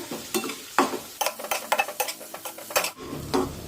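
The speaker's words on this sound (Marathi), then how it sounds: "दोन मिनिटे मध्यम आचेवर हे खोबरं छानपैकी परतून घेऊया" Ground coconut paste sautés on medium heat in a pan with softened tomato, a spoon stirring it in quick rhythmic scrapes over a soft sizzle, close and without speech.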